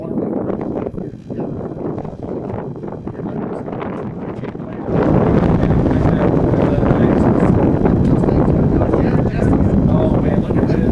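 Wind rumbles across the microphone at an outdoor model aircraft competition, moderate at first and then abruptly louder and steadier from midway, with faint voices in the background.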